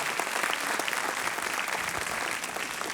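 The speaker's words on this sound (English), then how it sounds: "Please give him a nice round of applause." A crowd applauds a veteran colonel at a memorial preshow, a thick, even roar of many clapping hands heard from within the audience, sustained for the full three seconds.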